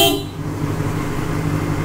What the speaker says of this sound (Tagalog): So ito yung busina niya, horn,